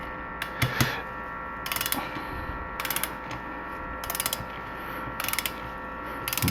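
Torque wrench ratcheting bolts down on the top end of a 1985 Suzuki GS450 engine during a rebuild, several close, crisp bursts of rapid clicks at a steady pace, with no talking.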